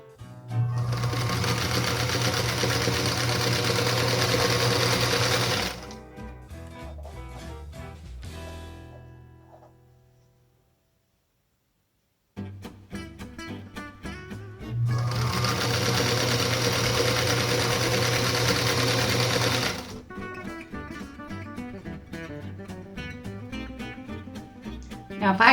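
A sewing machine chain-pieces quilt triangles with a quarter-inch seam, running in two loud, fast, steady bursts of stitching separated by a short silent pause, with softer fabric handling around them.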